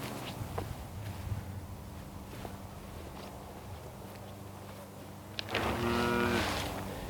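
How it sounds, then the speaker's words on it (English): Cows in a neighbouring winter feedlot pasture moo, one drawn-out, fairly loud low call near the end, over quiet outdoor ambience and faint rustling steps. "cows are very curious creatures"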